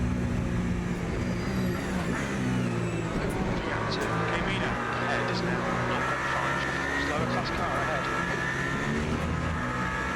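Toyota race car engine in the racing game Le Mans Ultimate, a steady loud droning roar with rising and falling revs throughout, with voices faintly over it.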